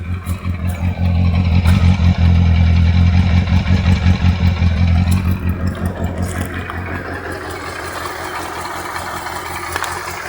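A chopper motorcycle engine runs just after starting, a loud, close, steady low rumble with a fast pulsing idle that eases slightly toward the end.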